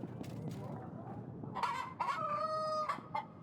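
A magical rooster in the game Yes Your Grace gives a loud, clear crow from about the midpoint onward, with a drawn-out tonal call and short clucks following, over steady low game background sound.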